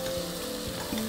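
A pan of tomato purée sauce being stirred, a soft sizzle with short scraping strokes of a utensil, close and brief with no talking.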